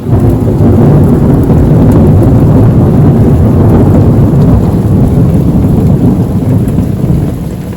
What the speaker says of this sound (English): We're having a bit of a storm, so we'll get it dried out.